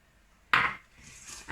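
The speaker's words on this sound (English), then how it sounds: "give it a good mix so all of the pieces are coated thoroughly" Potato peels tossed with a spice mix in a bowl give a sudden rustling clatter, then a softer scraping toss a moment later, close and alone.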